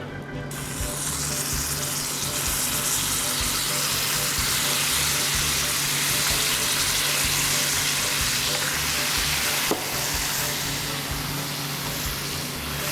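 Two sandwiches fry in a pan with a loud, steady sizzle that fills the whole stretch, close and continuous, with a brief clink partway through and no talk.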